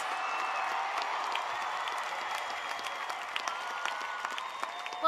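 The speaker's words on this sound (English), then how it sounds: "please rise and applaud the" Audience applause fills a large hall during a Rice University commencement ceremony, a steady wash of clapping heard from some distance, moderately faint, with a few whistles and no speech over it.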